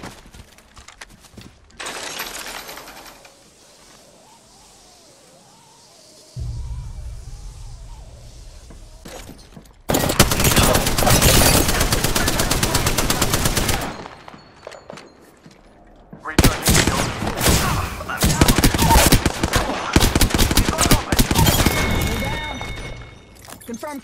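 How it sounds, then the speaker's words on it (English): Gunfire in Apex Legends comes in rapid loud bursts, first one long volley and then another stretch of heavy, fast shooting after a short lull. "shots fired and they're hitting me"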